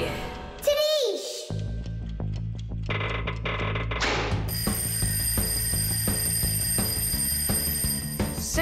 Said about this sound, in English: I think I can hear my alarm ringing.